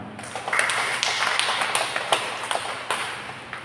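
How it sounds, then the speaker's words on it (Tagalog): An audience at a parish praise-song service claps in a steady rhythm, with sharp, fairly close hand claps and some ringing taps throughout. "Tuloy niyo yung palakpak mo."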